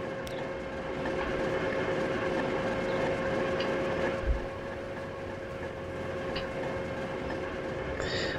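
A train rumbles steadily in the video game Transport Fever 2, a continuous mid-level rolling drone with faint clicks and a soft thump partway through, no voices.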